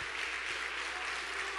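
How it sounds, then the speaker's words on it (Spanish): Congregation at a church service applauding as an offering of praise, a dense, steady wash of clapping hands filling the short moment without pause. "Dale una ofrenda de palmas porque Él ya ganó"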